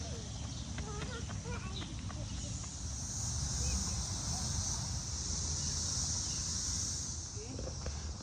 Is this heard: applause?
no